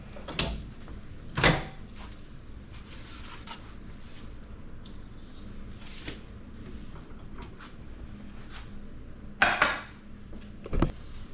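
Dishes and cutlery clink while food such as biscuits, eggs, gravy, beans and potatoes is plated in a home kitchen: scattered sharp clatters and knocks, a couple of louder bangs early and late, over quiet room tone.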